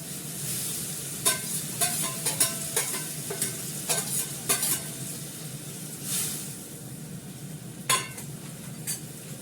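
Fish and green chilies fry in a pan with a little water, a steady close sizzle and hiss broken by frequent clinks and scrapes of a utensil stirring against the metal.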